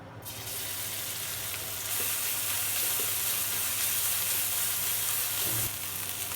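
Oil sizzles and crackles steadily in a wok, a bright continuous frying hiss that grows a little louder partway through.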